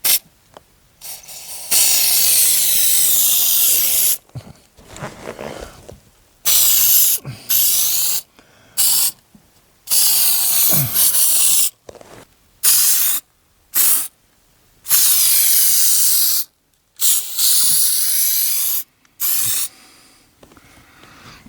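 Permatex heavy duty headliner adhesive sprayed as a second coat onto a car headliner: a long series of loud, close aerosol hisses in bursts of one to three seconds, separated by brief silences.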